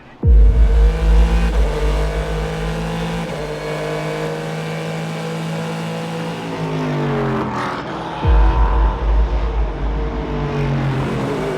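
A race car engine at HSR Classic at Watkins Glen, heard from inside the car as it revs through rising gear pulls with audible shifts, dropping briefly before accelerating hard again, loud and close.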